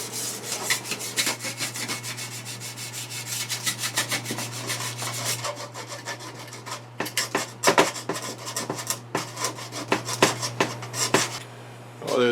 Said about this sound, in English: I'm going to deburr as much of this as I can before I go any farther